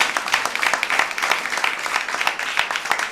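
A church congregation claps together, a dense, steady patter of many hands close and moderately loud, continuous without pauses.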